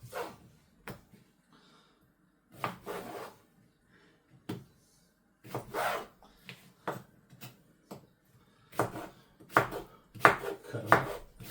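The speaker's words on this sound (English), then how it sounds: "Next, we're gonna cut up some regular squash, calabacita." Knife chopping squash (calabacita) on a cutting board for albondigas meatball soup, sharp irregular clusters of chops with short pauses between them, close and alone.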